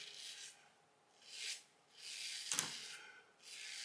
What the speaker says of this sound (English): I just love that sound against the growth.